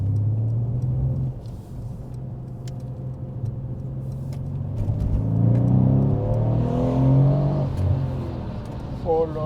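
A Mercedes C63 AMG engine revs and accelerates with a deep, sustained rumble that swells in the middle and stays loud, while someone talks over it throughout.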